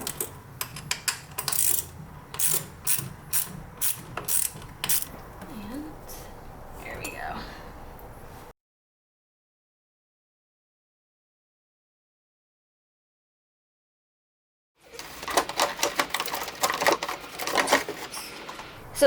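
Rapid metallic clicks and taps from tools unfastening the bolts on a car's MAF housing during a turbo replacement, in busy bursts that stop for several seconds of silence and then resume.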